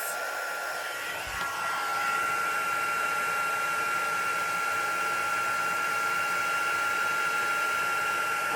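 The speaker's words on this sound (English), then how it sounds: "use your heat tool, heat gun" A heat gun melting embossing powder for cardmaking blows with a steady, loud, close hiss and a whining tone that holds unchanged for several seconds after a brief click as it starts.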